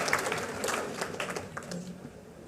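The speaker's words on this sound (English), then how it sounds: "A clap for me." Applause from the audience at a marketers' night event in Nairobi, a continuous wash of many hands clapping at steady moderate loudness throughout.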